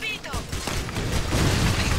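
Explosion and gunfire in the Clive Barker's Jericho shooter, a dense loud burst of booms and rattling shots that keeps going across two seconds.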